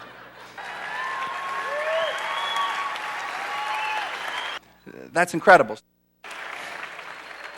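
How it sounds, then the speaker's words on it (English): Sustained audience applause from a crowd honoring a pastor, steady and full for several seconds, then broken by someone speaking briefly before the clapping resumes. "Please applaud for about another 20 minutes because I got to catch my breath."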